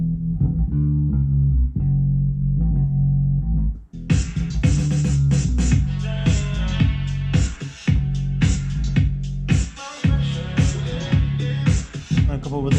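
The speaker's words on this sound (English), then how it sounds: "I lay it with a Rickenbacker, and then of course I have a sub underneath" Layered bass line pairing a Rickenbacker bass with a sub bass underneath, a loud, steady low-end groove that swells into a fuller, brighter electronic mix with percussive hits about a third of the way in.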